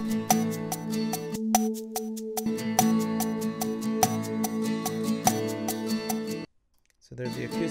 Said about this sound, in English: There's the acoustic track here